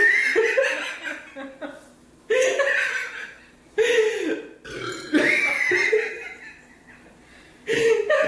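Loud, close burps repeat during a mukbang no-burp challenge, several drawn-out belches alternating with laughter and chuckling.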